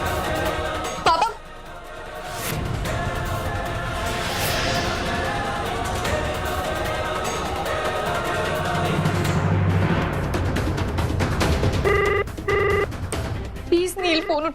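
Telephone bell rings repeatedly indoors in a domestic drama scene, its bursts steady and fairly loud beneath a woman's pleading speech and other voices, with a couple of sharp rings near the end.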